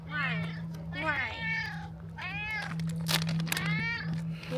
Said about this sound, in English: the cats here are picky